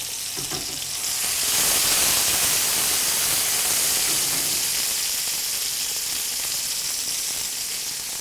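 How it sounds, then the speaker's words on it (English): Cherry tomatoes sizzle in a hot frying pan, a loud, steady hissing crackle that swells after the first second and holds evenly to the end, with no voices. "Don't be afraid of that sizzle. That just means we're cooking at the right temperature."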